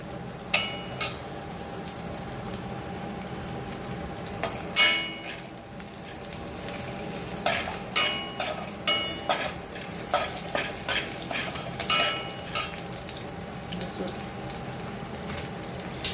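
Green chillies sizzle steadily in hot oil for chicken 65 while a spoon scrapes and stirs the pan in repeated clacks, close up, with no talking.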